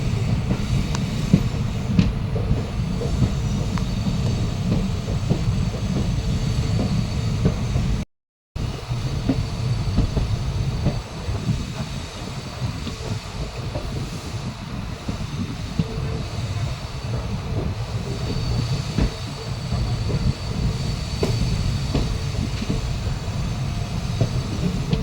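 A Madurai-Guruvayoor Express rumbles steadily along broad gauge track between Tenkasi and Kottarakkara, a continuous close rolling clatter with one brief dropout early on.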